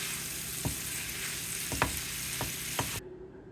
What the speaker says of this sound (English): Now I add the fried octopus pieces. I cook them thoroughly so that they mix really well.